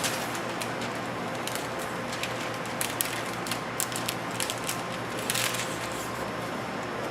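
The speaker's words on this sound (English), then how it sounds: "separate the tint and the release liner. And just peel it down." Window tint film being peeled away from its release liner gives a continuous crackling, rasping stream with scattered sharper snaps, close and fairly quiet, with no talking.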